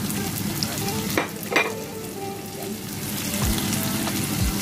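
Onion dropped into a hot pan where garlic is already frying gives a steady, close sizzle, with a couple of sharp stirring clacks early on and the hiss holding strong throughout.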